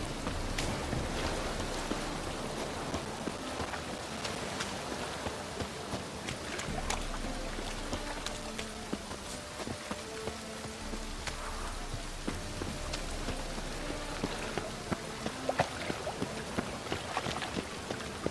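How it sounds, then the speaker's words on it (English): Steady rain patters continuously on surfaces in the video game The Witcher 3, with scattered louder drops and a constant hiss throughout, no voices. "And it's raining again."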